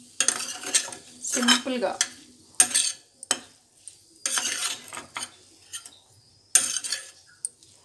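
A spoon scrapes and clatters in a pan as a broad bean fry is mixed with peanut powder, making several loud, close bursts of stirring with gaps between them. A brief spoken word comes through partway.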